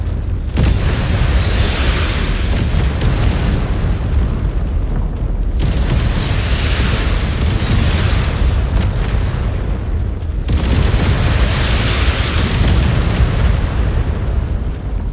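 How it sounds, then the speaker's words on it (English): Heavy artillery explosions pound a battlefield in Mechwarrior 5: Clans, with three long, loud rumbling blasts arriving back to back and sustained booming low rumble filling the whole stretch. "We just took an artillery hit."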